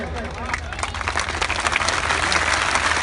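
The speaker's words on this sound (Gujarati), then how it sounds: "જરા જોરથી તાળીઓ પાડો ને જોમ આવે" A crowd at a political gathering about youth employment clapping, sustained applause that swells and grows louder toward the end, with talk underneath.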